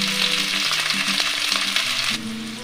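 Chopped onion and capsicum fry in a pan with a loud, continuous hiss and sizzle close by, under a low tonal hum that shifts pitch, and the sizzle softens slightly near the end.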